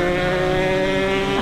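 A two-stroke motorcycle engine, one of a Ninja SS, RX-King or Satria bike, revving steadily and loudly up close with a strong, even buzzing drone, with no voices heard.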